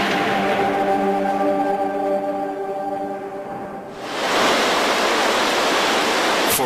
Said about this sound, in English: For months, torrential rains soak the Western Ghats.